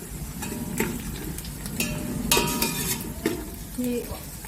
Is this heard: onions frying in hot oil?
yes